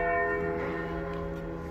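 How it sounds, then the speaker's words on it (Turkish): Church bell ringing with sustained metallic tones and layered overtones hanging in the air, fairly loud and steady across the whole stretch with faint street background beneath. "Bunun kilisenin çanı."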